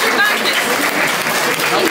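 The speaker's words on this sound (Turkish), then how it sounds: "Kuvvetli alkışlar gelsin." Guests applauding at a Turkish engagement party as the ribbon is cut, a loud continuous patter of many hands throughout with voices mingled underneath.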